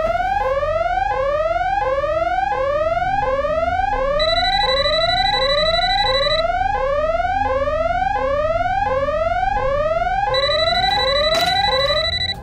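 Loud electronic burglar alarm wails continuously after an attempted break-in, its tone sweeping upward again and again in rapid repeating cycles, with extra steady beeping tones layered in partway through.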